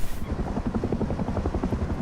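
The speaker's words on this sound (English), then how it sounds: "Holy crap, Chopper, go away, dude." A helicopter in the video game Rust flies low directly overhead, its rotor giving a loud rapid rhythmic chopping that stays close throughout.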